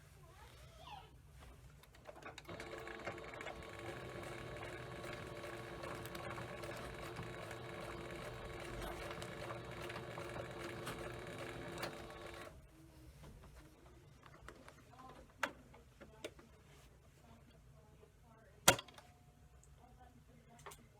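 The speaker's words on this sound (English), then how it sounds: "When I do the bottom, I'm just going to use my back stitch." A sewing machine back-stitching a patch, a faint, steady mechanical whir lasting about ten seconds, followed by quieter handling clicks and a sharp tap.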